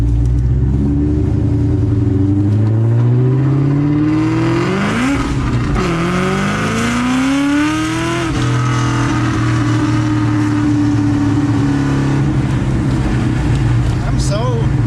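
A 700hp Whippled Terminator Cobra accelerates hard with its tires hooking, the loud engine rising in pitch through two gear shifts, close up and continuous, with people talking over it.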